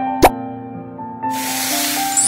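In a jalebi-making cooking game, sugar is added to the mixture with a single sharp plop, followed by a bright pouring hiss and soft cartoonish tones.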